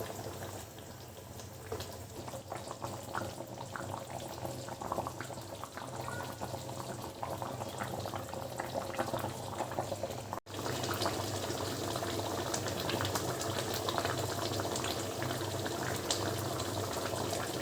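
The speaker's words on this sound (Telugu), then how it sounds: "ముందుగానే అడ్జస్ట్ చేసుకొని ఉడకనిద్దాం" Nellore-style fish curry (chepala pulusu) simmering in a pot on the stove, a steady, even bubbling and low roiling hiss that runs the whole time with no talking.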